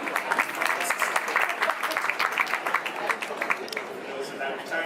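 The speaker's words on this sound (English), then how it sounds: "We're just applauding." Audience applause at a film festival premiere in Toronto, a dense crowd clapping steadily and fairly close for several seconds, with scattered voices mixed in among the claps.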